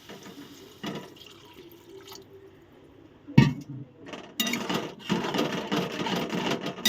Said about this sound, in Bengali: তো এবার আমি একটু জল ঢেলে দিচ্ছি।